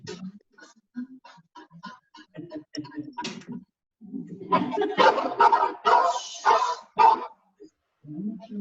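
A dog barks in a series of sharp, close barks with short whines between them, growing louder and busier toward the end, recorded indoors during a live stream.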